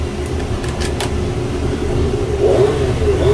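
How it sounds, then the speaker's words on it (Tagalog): A power saw runs in a box fan repair workshop, giving a steady, loud motor whine and rumble that swells slightly toward the end. "tumunog na po yung power saw"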